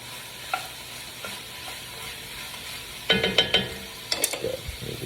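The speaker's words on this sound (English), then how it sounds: "Give that a little stir." Chopped kale being stirred in a pan for soup, mostly quiet at first, then a cluster of close scrapes and clatters followed by a second, shorter burst over a low sizzle.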